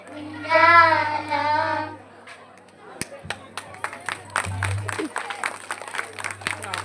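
An audience claps for children who have just sung devotional keertanas, starting as scattered sharp claps and building into uneven applause, after a speaker's voice asks for it.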